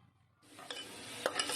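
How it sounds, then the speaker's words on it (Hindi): Chopped onions drop into hot oil in a pan on a lit stove, cooking for a chilli pepper mutton curry: a quiet moment, then a sudden loud sizzle that keeps hissing steadily, with a couple of sharp spatters near the end. "ऑयल जैसे गर्म होगा इसके अंदर डाल देती हूँ मैं प्याज।"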